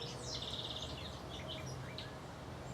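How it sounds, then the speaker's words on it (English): A warbler singing in open countryside, delivering a quick run of thin, high trills and chirps at moderate distance over constant background hiss. "Some kind of warbler, I'd say."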